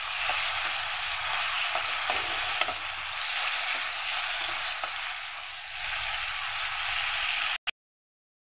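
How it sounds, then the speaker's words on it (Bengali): Ground coriander leaf paste fries in a pan while making dal, a continuous close sizzle with faint stirring scrapes, ending in an abrupt cutoff; no voices. "এখন আমি এখানে যে ধনিয়া পাতাটা বেটে রেখেছিলাম সেটা দিয়ে দেব।"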